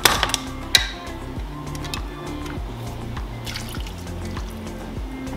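Canned Rotel tomatoes and their liquid pour into a cooking pot, giving a close, wet splashing and dripping sound with a few louder plops near the start, then a steady sloshing.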